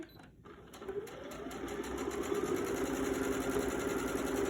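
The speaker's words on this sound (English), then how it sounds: "I want to back stitch in here because I want this to hold while I'm sewing everything else together." A sewing machine back stitches through quilt fabric, a steady close whirring hum that rises and holds with rapid needle ticking, briefly pausing near the start, with no talking.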